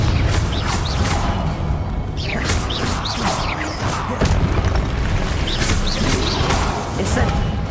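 Repeated Confringo explosion spells in Hogwarts Legacy, loud booming blasts with crackling debris over a dense, busy game soundscape, one after another in quick succession.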